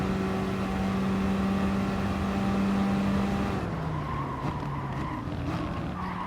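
Renault Megane race car in GT Sport roaring loudly at steady high revs, its engine note holding then dropping slightly partway through, with faint tire squeal and no voices.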